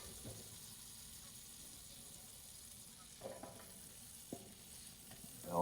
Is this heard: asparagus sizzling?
yes